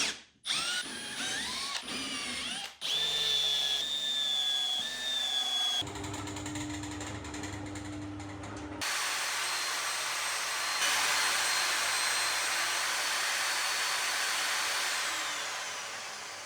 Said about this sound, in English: So next thing's to drill those holes.